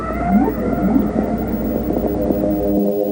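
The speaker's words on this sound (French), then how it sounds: "notre chanteur soit une lointaine baleine." A distant whale sings underwater, its rising and falling moaning tones drifting over a steady low rumble of the deep ocean.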